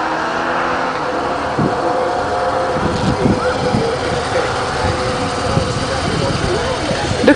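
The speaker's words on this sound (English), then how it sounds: "sound like an old diesel car" An engine with the low, gravelly idle of an old diesel car rumbles steadily near a roadside stage of the Tour of Britain cycle race in Suffolk. Faint background voices are present, with a few knocks and clanks partway through.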